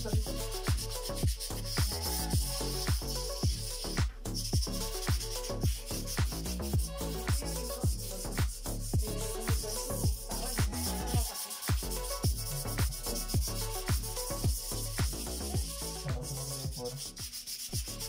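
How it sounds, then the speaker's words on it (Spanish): Sanding a surface in a bathroom to strip away built-up grime, heard as close, rhythmic back-and-forth scraping strokes repeating roughly every second, steady and unaccompanied by speech. "aquí lo que estoy haciendo es lijando esta parte todo para quitarle lo percudido"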